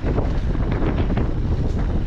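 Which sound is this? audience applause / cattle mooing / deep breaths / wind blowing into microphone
wind blowing into microphone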